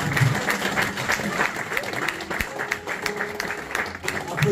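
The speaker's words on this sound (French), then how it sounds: "Applaudis, applaudis, applaudis." A church congregation claps along during a French-language Sunday worship service, a steady noisy patter of applause beneath a voice that keeps talking throughout.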